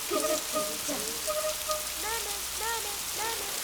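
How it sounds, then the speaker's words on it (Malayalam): Rain falling during sunshine in a Kerala village film scene, a soft continuous patter of drops throughout, with a faint melodic score layered over it and no speech. "കണ്ണൻ ചേട്ടാ ഇതെന്താ മഴയും വെയിലും?"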